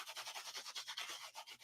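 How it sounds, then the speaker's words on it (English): A cloth rubs briskly across a card surface to buff off loose gold embossing flecks, giving a quick run of soft, rhythmic swishing strokes, close and quiet with no talking. "I'm just taking a cloth and buffing those little"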